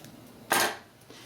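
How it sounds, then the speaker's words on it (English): Scissors snip once through crochet yarn while a beach bag is being finished: a single crisp, close cut in an otherwise quiet room. "I'm going to cut my yarn."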